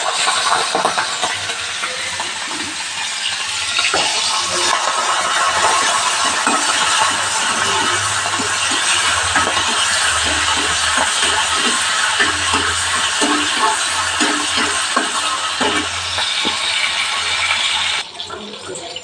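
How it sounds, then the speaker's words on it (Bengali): Prawns frying in a small amount of hot oil in a wok, a steady loud sizzle with crackling pops running throughout, then a sudden drop in level near the end. "আমি চিংড়ি মাছটা ভেজে নেবো"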